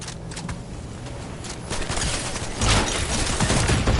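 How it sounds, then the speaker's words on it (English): Rapid bursts of gunfire from the video game Fortnite crackle in dense, overlapping volleys that grow louder partway through, with no voices over them. "I heard the bullets"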